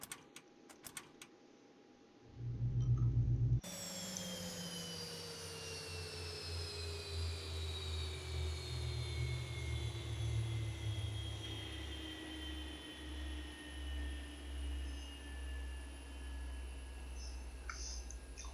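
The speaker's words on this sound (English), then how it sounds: "And kill the engines." Jet engines on a parked airliner in the X-Plane 11 flight simulator spool down after a couple of clicks, a loud whine settling into a long, fading descending tone over a low rumble, with no talk.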